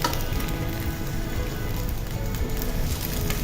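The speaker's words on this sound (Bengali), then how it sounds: "ভাজ করার পরে ডিমটাকে এক দুই মিনিটের মতো একটু ভেজে নিব" An egg omelette sizzles and crackles steadily in a frying pan, a close, even hiss with no voices.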